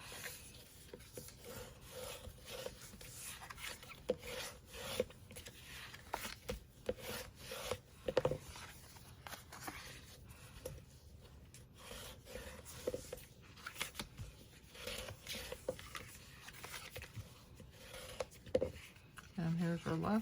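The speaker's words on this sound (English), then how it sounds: "We're going to burnish on all sides, so let's bring out the bone folder." A bone folder is rubbed firmly across scored cardstock for a treat box, producing dry, close scraping strokes in short repeated bursts, with occasional talking around them.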